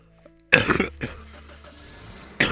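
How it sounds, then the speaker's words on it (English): A single hard cough bursts out close to the mic, followed by a quieter second cough and a low rumbling hum, with another short burst at the end. "I keep coughing."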